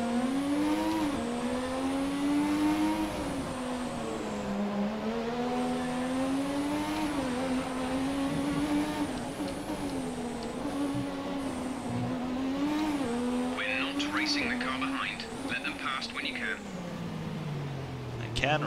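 A McLaren MP4/4 Formula 1 car in F1 2017 races on, its high-pitched engine whining and rising and falling through gear changes. Tyres squeal in short bursts near the end, and a voice talks over it.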